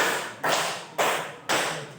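Three evenly spaced, close hand claps, each a crisp slap with a short decay, steady and alone without talk.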